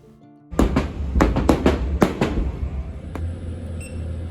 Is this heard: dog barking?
no